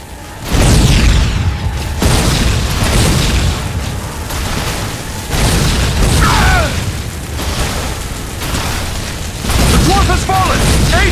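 Fire barrels exploding in the video game The Lord of the Rings: War in the North, heavy booms and rumbling blasts layered densely with clanking combat noise and loud throughout, with voices over the action.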